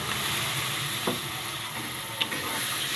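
Spices with turmeric and bay leaves are stirred in hot oil in a pan for a Bengali country chicken curry, a steady sizzle with occasional scraping clicks of the spoon, close and alone.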